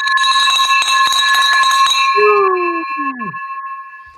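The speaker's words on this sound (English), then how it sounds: "Ring that bell for our boy, Daryl." A bell rung in celebration clangs repeatedly with a bright, sustained ring for about two seconds, then its tone lingers and decays while a brief vocal-like sweep passes underneath.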